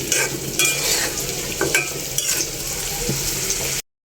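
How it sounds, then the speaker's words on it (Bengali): Spice paste and egg sautéed in a pan, a steady sizzle with repeated scraping and stirring strokes of a spoon against the pan, close and clear, ending abruptly in silence. "এখন ডিমটা দিয়ে কষিয়ে নেবো আর একটু"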